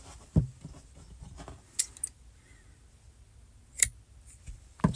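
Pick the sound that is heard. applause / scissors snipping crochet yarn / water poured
scissors snipping crochet yarn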